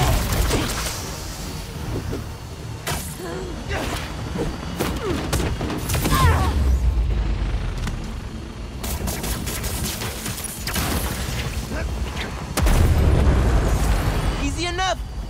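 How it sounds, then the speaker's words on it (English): Grenade blast in the Marvel's Spider-Man 2 video game: heavy booms and rumbling bursts within continuous combat noise and gunfire, with voices talking throughout. "Grenade out!"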